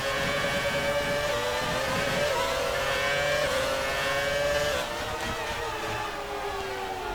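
A 2006 Renault Formula 1 car racing at Spa in the F1 2019 video game: a loud, close, high-pitched engine wail that climbs and drops through gear changes, continuous and with no pause.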